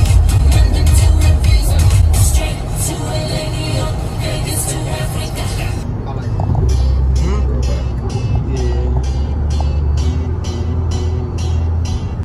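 A car drives along a road with a steady engine and tyre rumble, and people talk over it inside while music plays.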